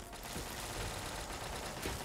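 Rapid gunfire and explosions from the video game Fallout 3 form a dense, continuous burst of crackling shots under a constant wash of noise, fairly faint and with no talking.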